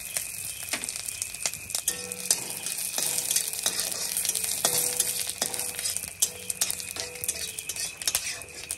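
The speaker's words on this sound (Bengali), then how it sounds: "তেল গরম হয়ে গেছে, তেজপাতা আর শুকনো লঙ্কা ফোড়নে দিয়ে দিচ্ছি, আর জিরে" Bay leaf, dried red chilli and cumin sizzling in hot oil in a kadai, a soft steady frying hiss under repeated clinks and scrapes of a metal utensil against the pan.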